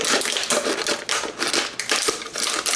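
Crisp crinkling and snipping of a thin empty plastic water bottle cut with scissors, a rapid series of sharp cuts and crackles close up, with no talking.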